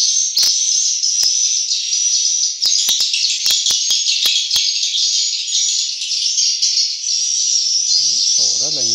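Swiftlets inside a swiftlet farm house in Nha Trang, Khánh Hòa keep up a loud, continuous chirping chorus, dotted with sharp clicks, and a voice comes in briefly at the end.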